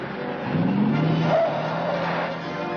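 A stolen squad car in a 1942 film pulls away, its engine revving with a brief tire squeal as it drives off, steady and fairly close throughout.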